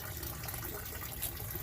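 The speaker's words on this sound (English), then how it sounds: "Just have a little small pond pump pulling the water up from the bottom of the tank, coming up and emptying into the pool." A small pond pump lifts water from the bottom of a tank so it pours out into a small pool, making a steady, close splashing and trickling rush with no talk.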